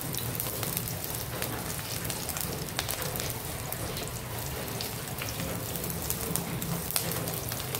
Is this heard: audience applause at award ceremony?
no